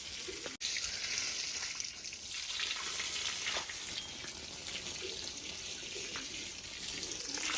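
Water streams steadily from a garden hose pipe into a corridor, a continuous hissing rush heard close, with a brief click near the start and no speech.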